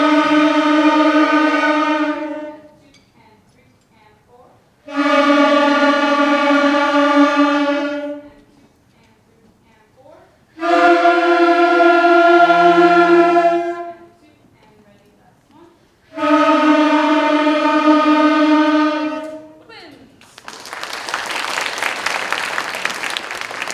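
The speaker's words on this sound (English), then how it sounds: "the first group I wanna hear are the woodwinds, my flutes, oboes, clarinets, and saxophones" School band woodwinds—flutes, oboes, clarinets and saxophones—play exercise number 5 in four sustained, loud chordal blasts separated by short silences, with a burst of noisy applause-like sound at the end.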